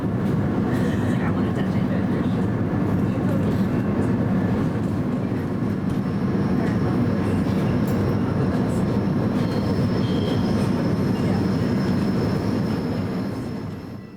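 A westbound A Line commuter train runs through Central Park Station with a loud, steady rumble and some wheel squeal, close by, before fading at the end.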